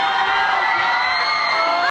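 A concert crowd erupts in loud, dense cheering, whooping and yelling, a sustained roar that cuts off abruptly.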